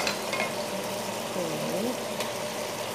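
Meat frying in a cooking pot, a steady sizzle and crackle of moderate loudness with faint background hum, no speech.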